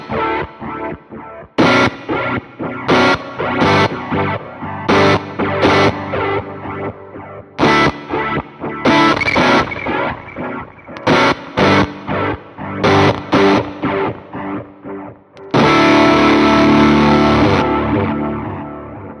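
Distorted electric guitar power chords played through a Line 6 HX Stomp preset snapshot, loud chunky driving stabs in short bursts with gaps between them, ending on a long sustained chord.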